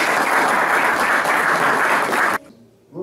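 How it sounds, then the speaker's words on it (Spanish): An audience at a cultural event in Sucre claps loudly and densely for a couple of seconds, then the applause stops abruptly, followed by brief quiet and a soft stir of noise. "Yo quisiera tener mil manos para darles un fuerte aplauso a todos ustedes."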